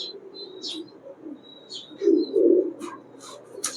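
Pakistani highflyer pigeons, high-tempered breeder birds, cooing in low soft bursts that swell near the end, with thin higher chirps and whistles from other birds scattered over the top.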